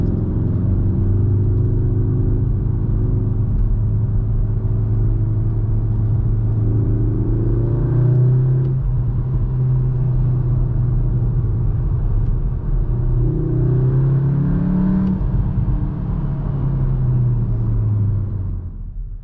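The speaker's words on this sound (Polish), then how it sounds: "A tryb Pure usuwa to wspomaganie i słuchamy tylko wydechu pracującego w trybie Cupra." The exhaust of a 2023 Cupra Formentor VZ 310 in Pure mode gives a loud, steady, deep rumble from inside the cabin. Two audible rises in pitch mark the revs climbing, and no one speaks.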